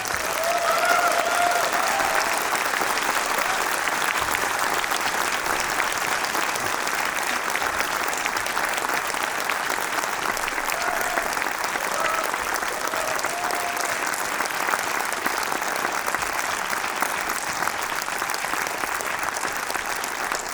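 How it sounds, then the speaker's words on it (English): Audience applause at the ZFF Masters event of the Zurich Film Festival 2024: a large crowd claps steadily and densely for about twenty seconds, loud and even with no talk over it. "Everyone, please give her a warm round of Swiss applause."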